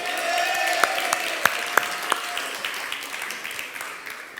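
Audience applause for a speaker at a church youth gathering, moderate clapping with sharp individual claps standing out early, gradually thinning and fading toward the end.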